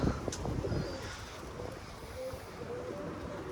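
Pigeons coo softly in a windy storm, with low throaty calls in the foreground over steady gusty rumble. The birds sound faint and the wind dominates.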